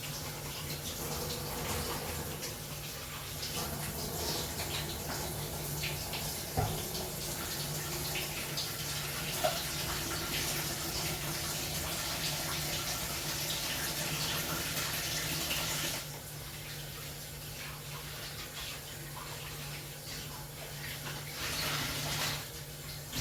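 Water runs steadily from a kitchen tap as hands are rinsed while baking chicken and leek pasties, a continuous broadband splashing hiss that drops off abruptly near the end before a brief final gush.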